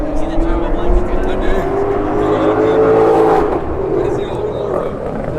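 A twin-turbo Lamborghini Huracan with a built motor, built transmission and lots of boost revs loudly and steadily, its engine rising and falling while a person talks over it.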